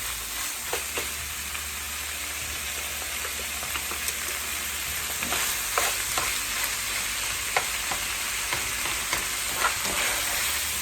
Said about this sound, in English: we've been sauteing this for a few minutes now with everything in it